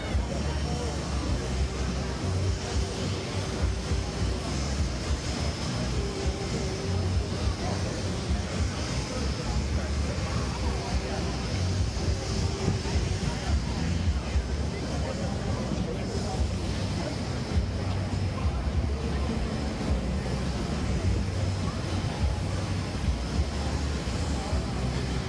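Airplanes fly over an air show at Oshkosh, a continuous distant engine drone and roar blending with crowd and ramp noise for the whole stretch, with no clear passes standing out.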